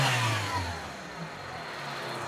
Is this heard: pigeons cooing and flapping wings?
no